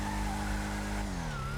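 The Arena Imperator car in a video game drives with a continuous droning engine whose pitch sweeps and then drops as it comes off a jump, layered over a steady game background with no speech.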